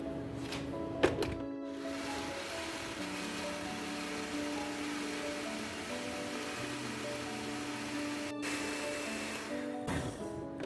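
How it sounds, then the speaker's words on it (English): A blender whirs steadily while grinding peanut porridge made with water, a sustained motor hum broken by short thunks at the start, near the middle and near the end. "So now that we've blended for about 5 or so minutes"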